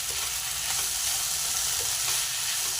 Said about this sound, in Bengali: একটু নাড়াচাড়া করে নিলেই রেডি হয়ে যাবে আটার তৈরি চাউমিন